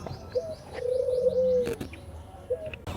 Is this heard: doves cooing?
yes